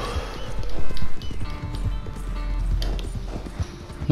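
Horse galloping in Red Dead Redemption 2, a steady run of low hoofbeats with clip-clop rhythm throughout, up close over game ambience and a low rumble.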